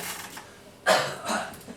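A single cough from a man giving a sermon, one abrupt close burst followed by a softer second huff, with no other sound around it.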